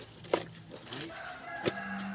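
A chicken gives a few short, sharp clucks, two louder ones spaced apart, amid faint farmyard background noise.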